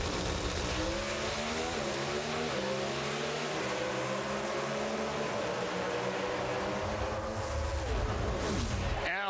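Two Pro Stock drag race cars, Alan Johnson's Mopar against Johnny Gray, launch and run side by side at the Mile High Nationals semi-finals, a loud sustained roar of rising engine pitch throughout, fading near the end.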